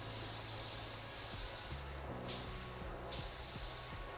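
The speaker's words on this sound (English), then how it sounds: "Don't forget about this freeze spray button." A freeze spray from the video game Powerwash Simulator 2 hisses in repeated bursts, loud and close, over a low game music backdrop with no talking.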